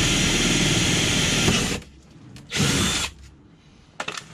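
A power drill bores a hole into the body of a VW T5 facelift van, whining loud and close for nearly two seconds, then a short second burst follows after a pause, ending with a few small clicks.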